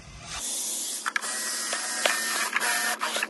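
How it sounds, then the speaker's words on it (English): A drill or cutter bores a hole through the back of a plastic outdoor wall socket box for a cable, giving a steady close whirring hiss broken by a few short bursts and pauses. "We're going to make a hole now at the back of this box for the cable to go through."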